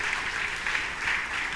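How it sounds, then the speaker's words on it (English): An audience at a blockchain and future-tech conference panel gives a short burst of applause, a dense patter of clapping hands, fairly close and steady throughout. "I think my panelists deserve a thunderous round of applause."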